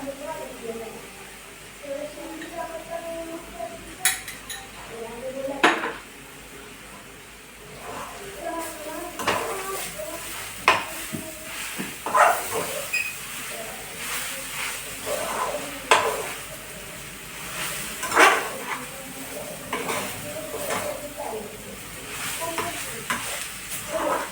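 Beetroot laddu mixture roasting in ghee in a pan, with a steady sizzle under repeated scraping and stirring strokes from a spoon, close and moderately loud, while a voice talks at times.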